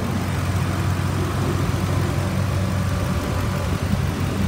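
A 2003 Ford F-250 XL pickup with a 5.4-liter V8 idles steadily and close by, a smooth continuous low rumble with no revving and no voices.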